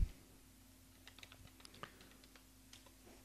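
Light, faint typing on a computer keyboard as an object is renamed, a loose string of soft, close key taps over a low steady hum.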